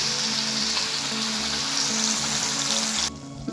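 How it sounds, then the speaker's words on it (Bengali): Spice paste tipped into a pan of frying whole-spice tempering for a Bengali flat bean curry, giving a loud, steady sizzle that runs unbroken before cutting off sharply near the end, with no voices. "ফোড়নটা ভালো ভাজা হয়ে গেছে, এবার এর মধ্যে পেস্টটা আমি দিয়ে দিচ্ছি।"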